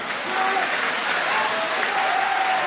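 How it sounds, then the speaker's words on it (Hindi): Steady, dense applause from an audience at a Hindi comedy poetry gathering, sustained and even throughout with a faint voice threading through the clapping. "जोरदार तालियां बजाओ सब मिलके।"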